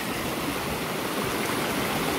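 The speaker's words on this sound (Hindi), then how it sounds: "कुछ इस तरह से पानी के बहाव को इन लोगों ने इस ओर मोड़ा है।" Flowing water of the Kosi river diverted along a channel rushes steadily and loudly, a dense continuous stream with no voices over it.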